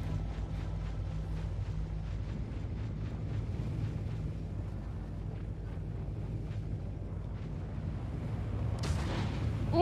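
In the space game Star Citizen, turrets in a restricted area fire on a ship flying an Anvil F7C Hornet Wildfire, producing a continuous low rumbling barrage with a dense stream of booms and a louder burst near the end.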